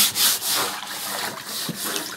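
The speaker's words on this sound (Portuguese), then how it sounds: "Pode esfregar o tanto que quiser que não sai" Steady scrubbing of a rust stain inside a water tank, a continuous rough rubbing with brief pulses of stroke rhythm, close and fairly loud, with no talk.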